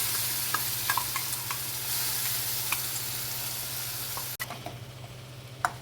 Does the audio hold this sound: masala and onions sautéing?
yes